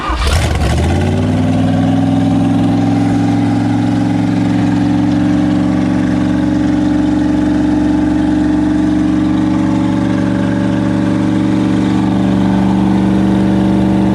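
Inboard engine of a 1973 Bertram 28 flybridge cruiser boat cranking, catching and settling into a loud, steady low rumbling run that continues without a break.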